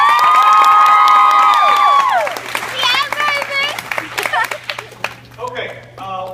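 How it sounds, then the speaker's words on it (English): At a lacrosse banquet, a crowd bursts into sustained high-pitched cheering and whooping with clapping underneath, then breaks into scattered excited shouts and voices. "if you could give them a round of applause"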